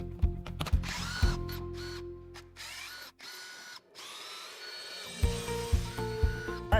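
A power tool removes the factory underbody skid plate from a Tesla Model 3: short whirring bursts near the start, a quieter stretch with light handling noise, then renewed rapid spinning bursts up close.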